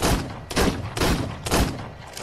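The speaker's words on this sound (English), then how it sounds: "She needs to keep shooting." Rapid bursts of gunfire in the video game ARK Survival Evolved, four loud booming volleys spaced about half a second apart, heavy and full-bodied with no talking over them.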